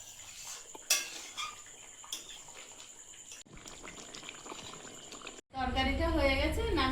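Pots and utensils clatter in a home kitchen as a chicken curry is dusted with garam masala, covered and left to simmer, with metallic knocks and scraping, then a louder stretch where a voice speaks over the kitchen noise.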